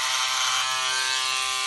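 Electric scissors slicing through rib knit fabric on a tailoring table, a bright, steady motorized buzz heard close up in one short unbroken burst.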